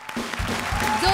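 Studio audience applause on a comedy television show, a crowd clapping at moderate loudness with a faint voice or tone mixed in underneath.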